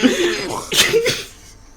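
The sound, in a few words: coughing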